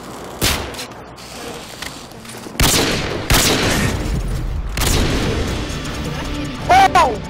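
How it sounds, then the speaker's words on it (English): Predator missile strikes in a video game, several loud booming explosions with sharp onsets spaced across the clip, with game voices and radio chatter in between. "Predator missile ready for launch."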